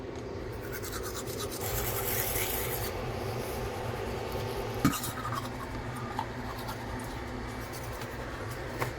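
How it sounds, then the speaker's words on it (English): Teeth brushed with a toothbrush before bed in a van: a steady, close, scrubbing rasp runs throughout without pause, with an occasional light knock, and no talking. "brushing our teeth"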